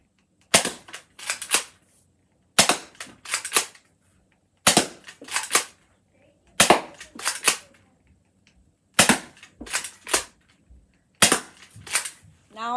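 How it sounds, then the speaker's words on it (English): Dart Zone Pro MK II foam dart blaster fired toward a target about 20 feet away, sharp snapping shots in spaced bursts of two to three, loud and close, with brief silences between volleys. "now I'll be firing this blaster"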